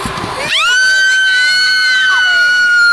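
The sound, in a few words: people screaming on an amusement ride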